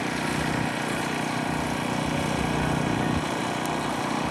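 Boeing C-17 Globemaster III jet with four Pratt & Whitney F117 turbofan engines at an air show open house, a steady, loud broadband engine roar that holds constant throughout.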